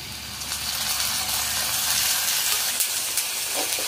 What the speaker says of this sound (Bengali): আদা রসুন বাটাগুলো দেওয়ার পরে আমি একটু হালকা ভেজে নেব যাতে কাঁচা গন্ধটা চলে যায়